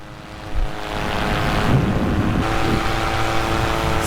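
Paramotor engine droning steadily through a takeoff on an inland farm field, a loud continuous propeller buzz that swells in after half a second and holds, with no talking.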